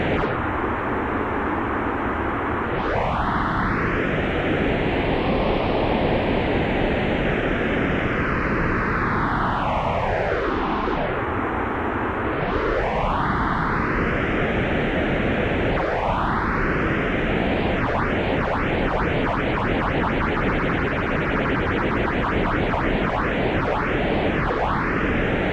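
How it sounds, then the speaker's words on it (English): Broadband noise swept by an Eventide Instant Phaser PS101 pedal in pseudo-stereo, its notches gliding slowly up and down, then sweeping faster and faster toward the end. "The Instant Phaser can create a really nice pseudo-stereo effect."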